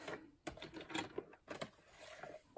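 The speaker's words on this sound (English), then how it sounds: "I haven't used felt on my sewing machine" A sewing machine stitches through felt in short, quiet mechanical bursts separated by brief pauses, with no talking.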